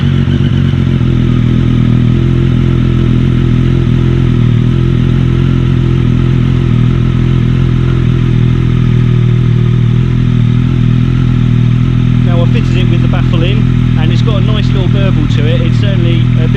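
A Triumph Street Triple 765R motorcycle fitted with a Delkevic titanium exhaust idles loudly and steadily up close with a deep, throbbing note, with rattling clatter near the end.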